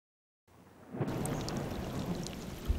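Rain pours steadily on Prony beach, starting abruptly and then hissing as a dense, continuous wash of drops, with a few heavier splashes near the end.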